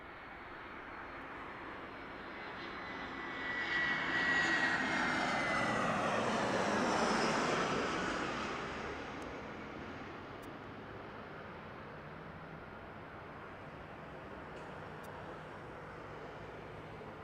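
Delta Airlines jet airplane passing at Las Vegas Harry Reid International Airport, a broad engine roar that swells over several seconds, peaks, then slowly fades into distant rumble, heard from a moderate distance.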